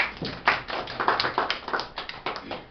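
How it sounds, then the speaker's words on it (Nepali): An audience at an organic tomato farming mentorship session claps briefly to welcome a speaker, the clapping sparse and uneven with distinct close hand claps over a few seconds. "सबैजनाले एकपल्ट तालीले मलाई स्वागत"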